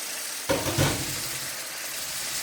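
Ground pork dropped into a hot pan with soy sauce, giving a sudden loud sizzle with a couple of clattering hits, then a steady close frying hiss that continues throughout.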